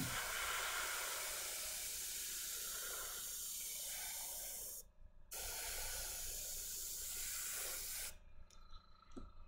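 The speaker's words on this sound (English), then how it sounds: "almost done with the airbrushing portion" Airbrush hissing steadily as it sprays paint onto miniatures, a continuous loud spray broken by a short pause near the middle and cutting off near the end.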